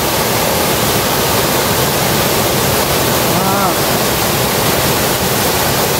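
A waterfall at a dam in Ninh Thuan, Vietnam, roars as a loud, steady broadband rush that fills the whole clip, with a faint voice barely audible underneath.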